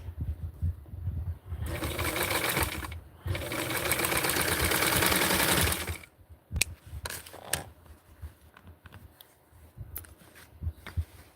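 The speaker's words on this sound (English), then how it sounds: "I'm going to put the serger through this top" A serger sewing machine stitches along a doll dress top in two loud, close runs of fast whirring, separated by a brief pause, then trailing off into quieter clicks and handling sounds.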